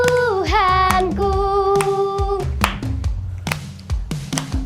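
At a children's online church service, kids clap over their heads in rhythm with a worship song. The regular claps punctuate the singing voices.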